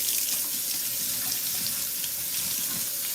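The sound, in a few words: washing a sofrito maker tray under running tap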